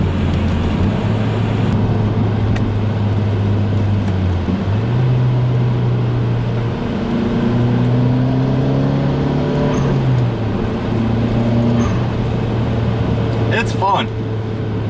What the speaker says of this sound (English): going into fourth gear.